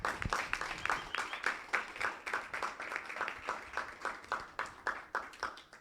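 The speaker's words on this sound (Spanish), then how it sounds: "Pido un aplauso para ella." Audience applause for a speaker at a university political science orientation fair, a steady run of hand clapping from a room of people, moderately distant, that fades out toward the end.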